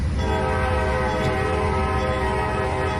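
A train horn sounds in the rail simulator Trainz 2019, a loud sustained blast that holds steady for about three seconds over the rumble of the locomotive.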